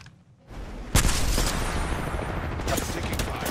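Gunfire aimed at the player in the battle royale shooter Apex Legends, a sudden burst of shots after a quiet start, then dense continuous firing with sharp transients near and loud.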